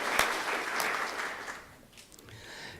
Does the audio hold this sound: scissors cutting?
no